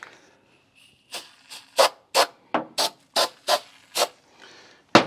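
A rattle can sprays black paint onto a Toyota Tacoma bed stiffener in about ten short, sharp hissing bursts at an irregular rhythm, close by, with a soft rattle of the can before the bursts begin.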